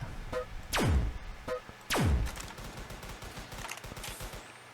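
Two heavy, booming gunshots ring out in a Roblox battle tycoon game, each with a falling whoosh and spaced about a second apart, with fainter clicks and rattles in between and no talking.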